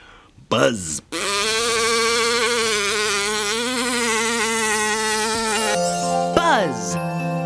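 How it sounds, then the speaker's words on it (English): A cartoonish buzzing-insect sound effect from a children's TV show: a loud, sustained, wavering buzz runs for about five seconds, bracketed by short swooping tones at the start and end. "Buzz."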